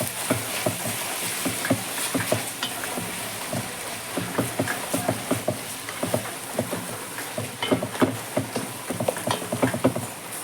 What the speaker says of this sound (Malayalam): നമുക്ക് എല്ലാം കൂടി നന്നാപോലെ ഇളക്കി കൂട്ടാം.